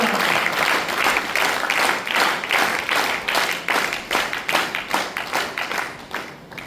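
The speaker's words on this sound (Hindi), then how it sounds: "अरे इस टारगेट को लेने के बाद जोरदार तालियां तो होनी चाहिए।" Audience at a school lecture event breaks into loud, sustained applause, many hands clapping together, then thinning into scattered individual claps toward the end.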